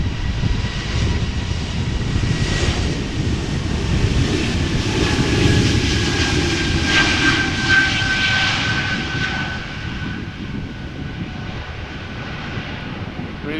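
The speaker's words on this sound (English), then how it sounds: "E2 Embraer 195, awfully quiet." An Embraer 195 E2 jet airliner with quiet geared high-bypass engines departs Amsterdam Schiphol Airport, giving a steady, fairly loud engine roar that holds and slowly fades as it climbs away, with no talk over it.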